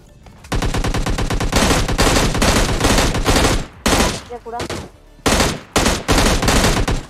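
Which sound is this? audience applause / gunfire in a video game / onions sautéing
gunfire in a video game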